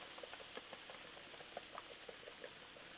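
Shrimp and sausage sizzling on a Blackstone griddle, a faint, steady crackle and spatter of small pops from frying food, quiet and continuous with no voices.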